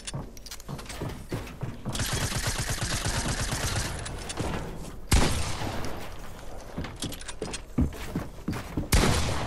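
Guns fire into the air in dense, rapid bursts that come loud and close, with brief pauses between volleys and mechanical clatter mixed in.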